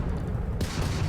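Spaceship guns firing in Starfield, a sudden broadband burst of shots kicking in halfway through over a steady low engine rumble, loud and close.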